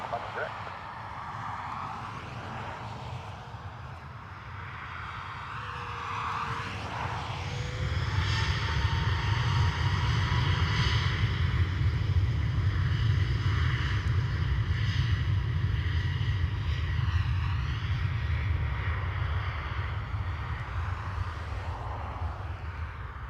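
A Ryanair jet takes off from Dublin Airport's runway 10 right, engine roar swelling to a loud, steady rumble and whine that holds as it climbs away, with radio chatter and talk over the start.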